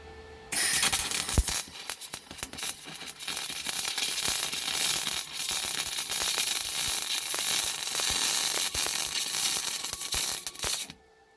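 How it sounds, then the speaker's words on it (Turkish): A portable case-type KAR200 MIG/MAG gas-shielded welder lays a sample bead, making a loud, steady, close crackling sizzle that starts abruptly, runs unbroken for about ten seconds and then cuts off. "Hemen şimdi bir numune bir kaynak yapalım."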